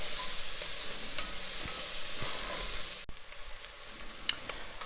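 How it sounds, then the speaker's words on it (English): Onions sweating in butter in a pot over low heat give a soft, steady sizzle with occasional spoon stirs and clicks, and one sharp knock partway through. "we're going to sweat our onions, and that is to cook them on low heat"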